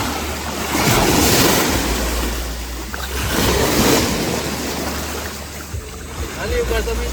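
Strong ocean waves break at Ternate Beach in a loud, continuous roar of surf with heavy wind buffeting the microphone and a low rumble underneath, while people talk faintly.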